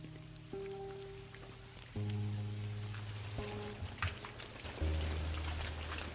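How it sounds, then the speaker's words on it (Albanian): Rain falls steadily through the night, a soft continuous patter heard alone beneath sustained, gently shifting musical tones. "Natën kur bie shi."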